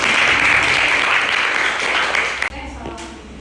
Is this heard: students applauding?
yes